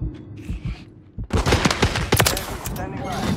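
Sudden heavy automatic gunfire from Modern Warfare III on PlayStation erupts after a quieter opening, rapid loud bursts of shots crackling close by, with game voices calling out over the shooting.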